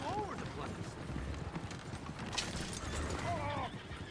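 Horses in Red Dead Redemption 2 whinny twice, near the start and again later, over steady clip-clopping hooves and game background noise.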